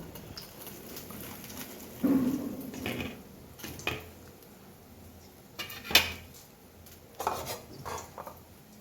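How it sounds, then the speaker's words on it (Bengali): A bowl's back presses pakoras flat on a plate, giving scattered dull taps, scrapes and a sharp clink or two against a quiet background, no talk. "এই বাটিটার পেছন দিয়ে আমি পকোড়াটাকে চাপ দিয়ে একটু চ্যাপটা করে নিই"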